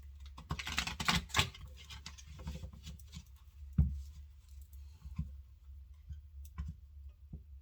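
Soft, quick rustling and papery slaps of tarot cards being shuffled, in a few short bursts followed by scattered light taps, close and quiet.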